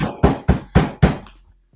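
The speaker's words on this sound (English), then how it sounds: "Police is knocking." Four firm, evenly spaced knocks on a door by police, loud and close, ending in a brief silence with no voices over them.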